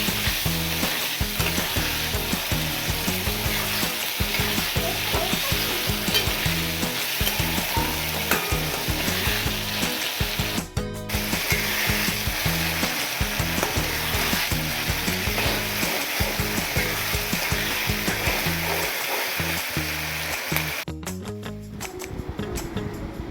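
Chili chicken with tomato ketchup and a little chili powder sizzles hard in a pan as it is stirred, a loud, dense, continuous frying hiss with steady scraping all through and no voices.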